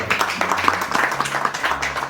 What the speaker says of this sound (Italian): che ringraziamo con un applauso perché è venuto